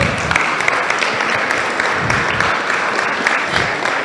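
A crowd at a health care innovation awards ceremony applauds the award winner, a loud, dense burst of clapping that holds steady for a few seconds.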